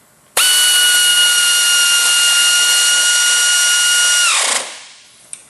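A 3/4 inch air impact wrench tightening a bolt gives one loud, sustained high-pitched whine lasting about four seconds, then winds down and stops with a small click at the end, with no voices.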